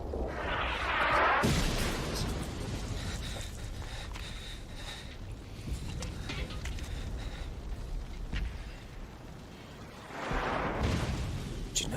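Explosions and artillery fire from a World War II battle film set at Stalingrad, heavy booming blasts at the start and end with rumbling battle noise between, people talking under it.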